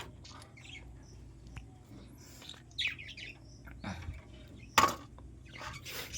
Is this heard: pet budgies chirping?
yes